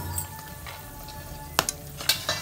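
Spices for tempering sizzle steadily in hot oil in a pan for egg palak curry. A few sharp clinks of a utensil against the pan break through the sizzle.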